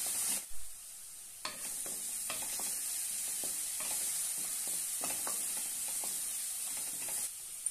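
Green chili, garlic and cumin paste sautéing in hot oil: a steady bright sizzle with repeated scraping stirs of a spoon, close and alone.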